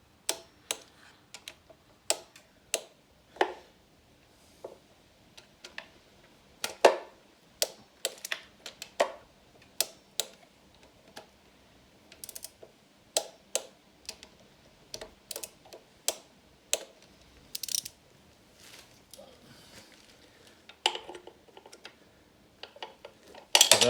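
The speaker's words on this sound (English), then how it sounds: "Anyway, I'll go ahead and torque these down." A torque wrench tightens the head bolts on an outboard motor during a head gasket replacement, giving sharp, separate clicks and metallic ticks at an uneven pace against a quiet background.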